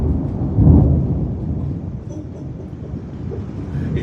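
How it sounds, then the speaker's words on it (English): Distant thunder rolls during a rainy thunderstorm, a low rumble swelling briefly then fading into a steady murmur of rain and background noise, heard without talk. "it is thunderstorming like I've never heard before"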